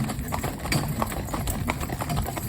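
A horse named Cloud, pulling in harness with weight on the trace, clip-clops in quick, steady hoofbeats close by, with faint background noise.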